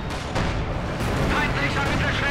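Heavy gunfire and explosive booms in Company of Heroes 2 pound in dense, loud bursts across a busy battle soundscape, with several sharp onsets crowding together.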